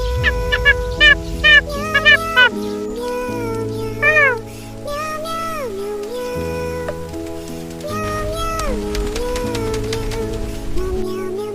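Cat meows repeated over background music, a series of short rising and falling calls, some close and loud, spread through the scene.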